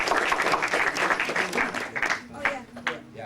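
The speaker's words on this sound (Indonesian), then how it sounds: "Oke, untuk Mas Gali kita tepuk tangan dong." Student audience at a campus orientation event claps hands in a lively round of applause, loud and dense at first then thinning into scattered claps, with voices talking over it.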